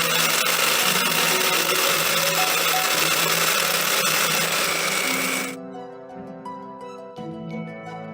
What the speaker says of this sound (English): we decided to switch to the blender